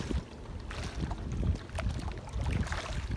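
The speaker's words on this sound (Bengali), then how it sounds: "অসাধারণ বাতাস, দক্ষিণে বাতাস, পানির থই থই কলরব" Faint gusting southerly wind with soft, irregular lapping of river water against a small boat, quiet and close.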